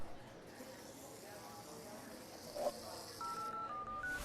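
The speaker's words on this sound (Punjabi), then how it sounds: "ਫੋਨ ਵੱਜਿਆ।" A telephone rings faintly indoors in a short sequence of electronic tones near the end, under low background noise.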